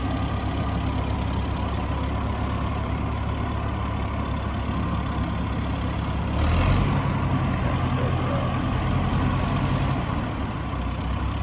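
A 1962 Allis-Chalmers D17 farm tractor engine runs steadily at a low, even rumble, then its pitch and loudness rise briefly as it revs before settling again; no voices.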